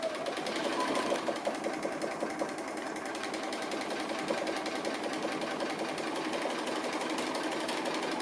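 A sewing machine stitches appliqué in a continuous, fairly quiet rapid mechanical whir that holds steady from start to finish.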